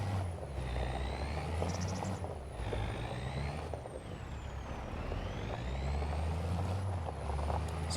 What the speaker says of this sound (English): So we'll bring the truck over and get these loaded into the bed